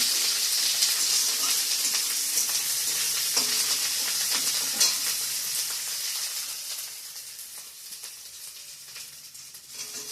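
Ginger sizzles steadily while frying in a pan, a continuous bright crackling hiss with occasional louder pops, easing slightly toward the end, with no voices.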